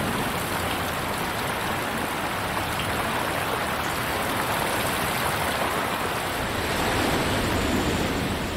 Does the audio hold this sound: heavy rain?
yes